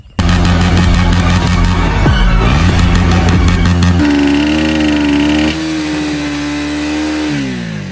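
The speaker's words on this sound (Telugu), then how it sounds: "మీకు ఒకసారి పాత డ్యూక్ 250 సౌండ్ కూడా వినిపిస్తా" An old KTM Duke 250 motorcycle engine revs loud and close, holding high and steady with rising pitch shifts, then easing to a lower sustained rev near the end, with no talk over it.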